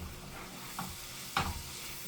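Minced onions fry in a pan for a meat pie filling, giving a quiet, continuous sizzle broken by two brief utensil knocks as they are stirred, with no one speaking.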